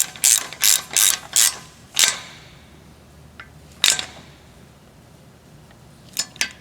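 Ratchet snugging a 10mm bolt on a Honda Civic during a front wheel bearing replacement: several quick, close bursts of clicking, a pause, one more burst, then two short ones at the end.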